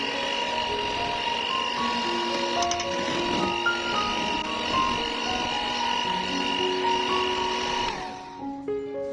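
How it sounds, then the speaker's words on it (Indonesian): An electric hand mixer whirs steadily as it beats cat tongue cookie batter with egg whites, a close, continuous motor drone that winds down near the end. "lalu kita mixer sampai tercampur rata aja"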